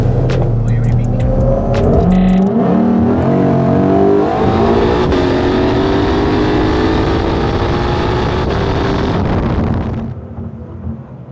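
A modded Shelby GT500 accelerates hard up through the gears, its engine roar climbing loud and close with quick breaks at each shift before easing off near the end.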